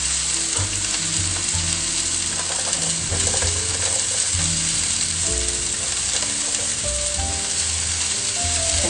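Chopped onions sizzle and crackle steadily in a hot pan, a loud continuous frying hiss heard close up, with occasional scraping and stirring sounds from a utensil.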